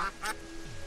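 A duck in the video game Terraria quacks twice in quick succession, short nasal bursts fairly close, followed by a low tonal hum.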